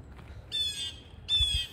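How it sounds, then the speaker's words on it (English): A bird gives two loud, harsh squawks about a second apart outdoors, with quiet background between the calls. "Even the bird sounds aggressive."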